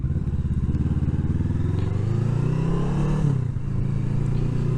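A Kawasaki ER-6f motorcycle rides through countryside, its engine a steady throbbing drone close by with pitch rising gradually under acceleration, then shifting, with wind buffeting and light rattles.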